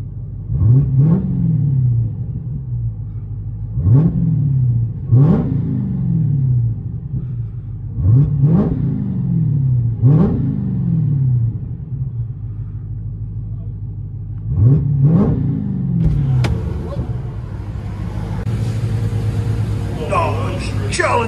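Supercharged 6.2L V8 in a Dodge Challenger Hellcat revs repeatedly in track mode, six or seven sharp exhaust blips rising and falling over a deep idle rumble, close and loud, with a rougher build of throttle near the end.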